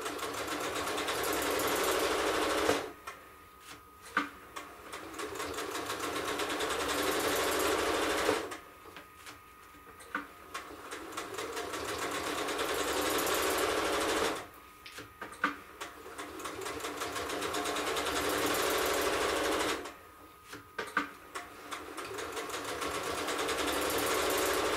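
Sewing machine stitching a quilt guided by quilting rulers: four long stretches of steady, fast stitching close by, each separated by a brief pause while the fabric and ruler are shifted.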